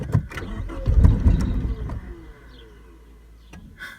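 A 1989 Ford Probe GT parts car cranking on the ignition key, a rough, loud churning in the first two seconds that fades into a low, steady hum, with faint bird chirps in the background.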